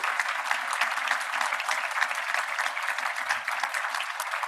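Applause from a conference audience for transit agency heads at a transit summit, steady and dense clapping from a large crowd, sustained throughout with no break.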